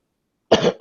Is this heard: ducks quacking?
no